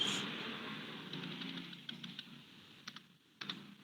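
Quiet keystrokes on a computer keyboard during data entry, with soft irregular clicks spread across the clip and a few sharper taps near the end, heard close but at low level over faint background noise.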